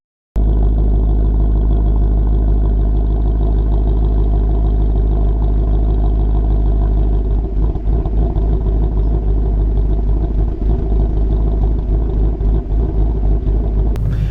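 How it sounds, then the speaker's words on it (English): Idle of a 2014 Ford Mustang GT Track Pack with a Coyote V8, close and loud: a deep, steady rumble with an uneven, lopey pulse that grows slightly rougher partway through, no talking. "they're able to through software make it have a lopey idle, so sound like you put an actual different cam in it"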